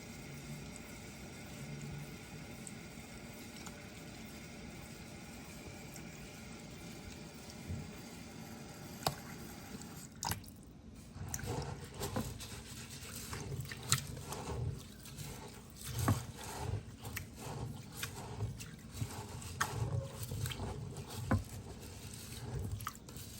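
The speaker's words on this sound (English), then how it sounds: "I'm gonna wash it again, just to make sure it's properly washed and clean" Rice being washed by hand in water before making coconut rice with corn, with close, soft swishing and sloshing that grows busier partway through, alone without talk.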